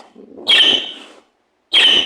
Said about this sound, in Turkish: Birazdan cik cik derse kuşlarıymış bunlar.